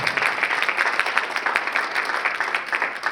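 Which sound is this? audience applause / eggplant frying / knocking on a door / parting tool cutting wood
audience applause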